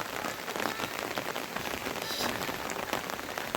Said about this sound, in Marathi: मे महिन्यात असा पाऊस आपल्याला अनुभवायला मिळतो यावर्षी गावी